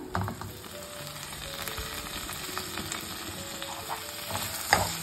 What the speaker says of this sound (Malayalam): ഇതിലേക്ക് നമുക്ക് മുരിങ്ങക്കായ ചേർത്ത് കൊടുക്കാം